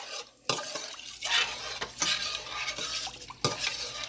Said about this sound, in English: I'm going to keep stirring that because I want that to come to a boil